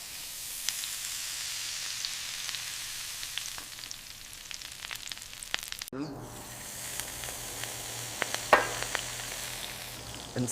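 A Vietnamese crispy pancake with unpeeled shrimp and pork belly sizzles in a hot pan, a soft, steady crackling fry with scattered pops, heard close and alone.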